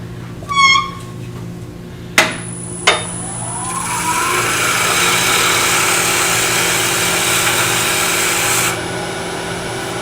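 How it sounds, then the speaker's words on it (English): A power tool whines up and runs steadily for several seconds sanding a miniature vase, preceded by a few sharp clicks and knocks, then cuts off. "So let's just sand it."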